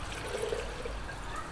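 Water pours into a Petromax coffee percolator, a steady close splashing fill, being topped up with about a litre, with no voices over it.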